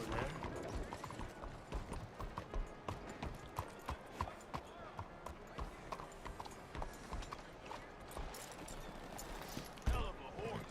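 Horse hooves clip-clop in the video game Red Dead Redemption 2, a steady run of sharp hoof strikes on hard ground with creaks and clatter mixed in, and game voices speaking over them.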